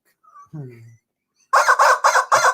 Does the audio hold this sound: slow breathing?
no